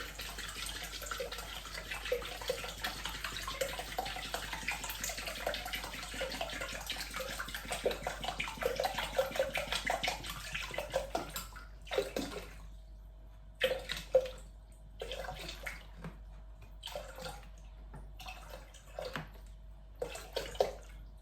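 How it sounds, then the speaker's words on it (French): Water poured into the bowl of a Thermomix TM6 kitchen appliance makes a steady splashing stream for about twelve seconds, then breaks into short intermittent pours and drips before stopping, with no talking. "Je vais insérer 1200 g d'eau."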